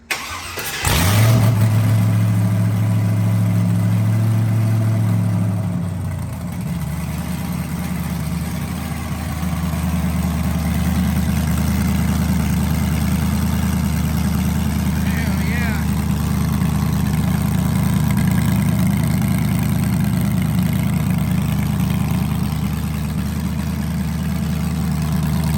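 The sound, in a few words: car engine starting and idling with new exhaust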